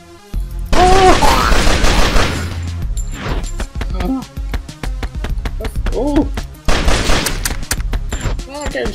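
Rapid bursts of gunfire in a video game, loud and close, broken by short pauses, with a man exclaiming excitedly over the shooting.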